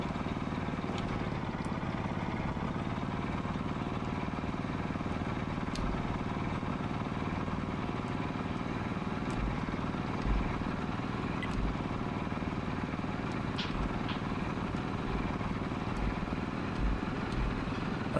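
Tank engine in World of Tanks, a light tank such as a Pz. I, Pz. 35(t) or Cruiser, running steadily throughout with a low, rumbling clatter, alone and fairly loud, with faint incidental clicks.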